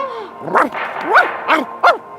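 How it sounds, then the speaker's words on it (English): A cartoon dog barks and yips at a TV four times in quick succession, with whiny rising-falling tones, fairly close and loud. "Quit barking at the TV."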